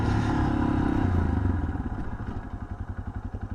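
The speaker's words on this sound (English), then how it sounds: "so that's on neutral. Let's turn off the bike." A motorcycle engine idling up close at night, loud and steady at first, then settling into a pulsing, rhythmic lumpy beat as it runs on.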